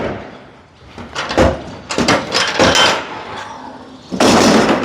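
A livestock trailer door is lowered and shut, producing several heavy metallic thuds and rattles close by, ending in a louder sustained clatter.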